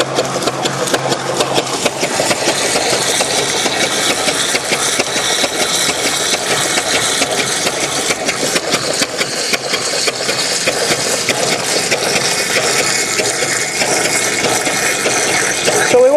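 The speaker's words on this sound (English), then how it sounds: "Just by slowing the pump speed with the water, we can save a little bit of wear and tear on the pump by not having it tick over as fast." A StreetPrint Rapid Sprayer II pump engine runs steadily at a reduced speed, a continuous mechanical drone with fine rapid ticking that stays loud and even throughout, with no speech.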